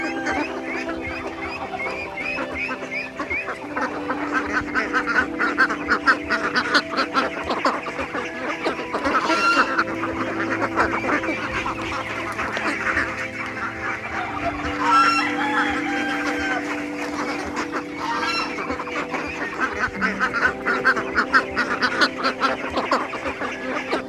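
Ducks and other fowl in a farm pen make a continuous din of quacking and clucking, with rooster-like calls mixed in, busy and fairly loud throughout with no talk.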